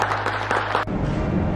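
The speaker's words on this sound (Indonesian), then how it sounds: "Tepuk tangan." Brief burst of audience applause in a hall at a memorandum-signing ceremony between a regional bank and a water utility in Palembang, following music and continuing as a steady, moderately loud clatter of hands.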